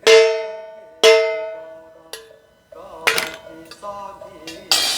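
A spoon striking a metal bowl during a meditation demonstration rings twice with sustained decay, then lighter clinks and clattering follow, with some faint speech underneath.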